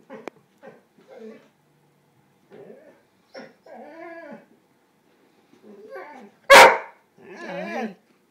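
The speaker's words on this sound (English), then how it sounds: "Don't bark." A dog barks and whines in short bursts, with one sharp loud bark near the end, while a person talks softly between them.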